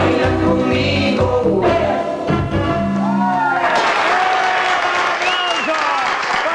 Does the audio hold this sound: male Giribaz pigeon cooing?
no